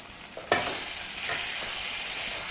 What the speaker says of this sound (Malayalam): നമുക്ക് അരിഞ്ഞു വെച്ചിരുന്ന പച്ചമുളക് ഇതിനകത്ത് ചേർത്ത്